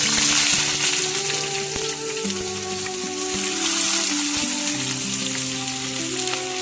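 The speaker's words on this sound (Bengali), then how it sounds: "পেঁয়াজ কষানো হবো ভালো করে নুন দিয়ে পেঁয়াজ ভালো কষানো করে হবো।" Sliced onions fry with salt in hot oil in a pan, giving a continuous close sizzle and crackle with faint background noise throughout.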